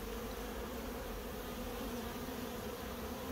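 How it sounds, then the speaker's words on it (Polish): A dense, steady buzz of many honeybees at an apiary fills the air continuously, a soft swarming hum with no voices. "pszczoły ostro pracują, jak widać."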